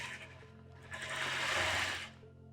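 A sewing machine stitching quilt pieces, a close whirring run of about a second that rises and stops, with a quiet hum before and after.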